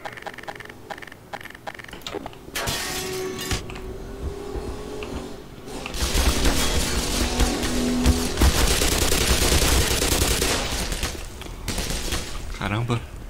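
Bursts of gunfire in Black Mesa, with scattered sharp shots and a longer stretch of heavier, dense firing, mixed with other game noises and someone talking over parts of it.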